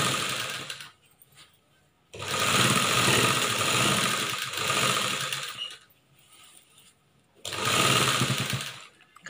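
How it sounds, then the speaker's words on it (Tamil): Sewing machine stitching a churidar top, running in three bursts of fast, buzzing motor whir with short quiet pauses between, close and steady while each seam is sewn. "இப்போது இதுக்கு மேலே நம்ம ஒரு தையல் போட்டுக்கலாம்."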